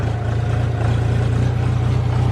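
A farm tractor in poor condition, fitted with a rotavator for preparing onion planting ground, idles close by with a steady, deep, even engine drone throughout.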